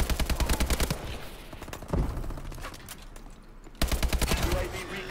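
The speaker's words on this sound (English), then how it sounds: "AK-12 Wrecker is the gun I'm using." Rapid bursts from an AK-12 Wrecker rifle in Call of Duty: Advanced Warfare multiplayer, close, loud and evenly paced, with a pause mid-way before firing resumes.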